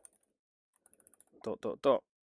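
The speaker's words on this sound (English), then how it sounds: "you can use your Bluetooth keyboard to type whatever you want" A Bluetooth keyboard used with a Meta Quest 3 gives a quick run of light, clicky keystrokes, and then a person speaks over the end.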